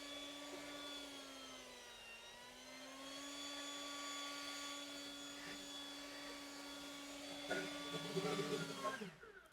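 A Patoolio 650CFM two-battery leaf blower blasting flour and sprinkled rice across damp pavement, heard as a loud, sustained fan whine that shifts slightly in pitch and briefly surges near the end before cutting off.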